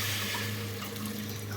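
Water strained off cooked dal pours in a short steady trickling stream, close and fairly quiet, stopping abruptly at the end.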